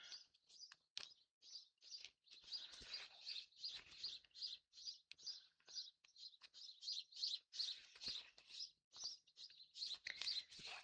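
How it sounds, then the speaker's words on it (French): Small birds chirp and tweet just outside an open window, a steady run of bright, quick calls repeating throughout, fairly close and clear, with no talking over them. "Vous avez le droit aux oiseaux qui piou-pioutent à côté."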